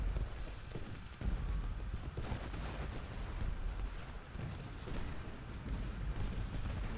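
Artillery guns in Ultimate General Gettysburg boom repeatedly in a Civil War battle, with irregular distant cannon thuds and crackling musket volleys that blend into a continuous low rumbling din, fairly quiet throughout.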